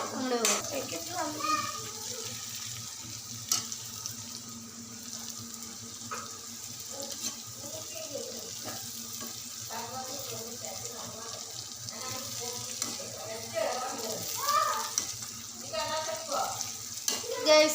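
Ingredients for an egg roast are stirred and sautéed in a pan, with soft sizzling and scraping scrapes running under intermittent talk, plus occasional sharper clinks.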